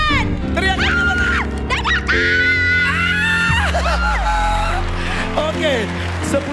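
An audience at a televised dangdut stage show screams and cheers on cue, a loud sustained burst of overlapping high-pitched yells and whoops filling the whole stretch, with music running underneath.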